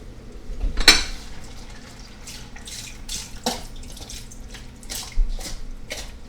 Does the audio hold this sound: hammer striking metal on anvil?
no